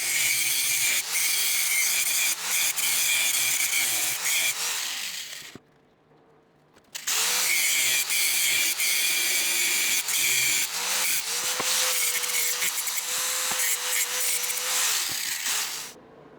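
A loud power tool cuts through a metal pulley gear section on a SnowRacer build, grinding harshly and steadily, pausing briefly midway, then resuming with a whining, rising pitch before stopping.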